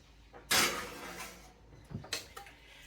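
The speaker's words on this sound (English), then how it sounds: "So I'm just going to throw it in the oven now." An 8x8 baking dish holding a garlic bulb going into a 350-degree oven, with a sharp clatter of glass and metal, a quieter shuffle, then a second clink and rattle near the end.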